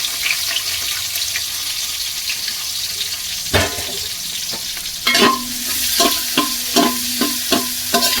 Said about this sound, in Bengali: তো পেঁয়াজটা ভাজা ভাজা হয়ে গেছে